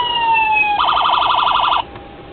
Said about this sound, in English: Siren, same siren that's in most of my builds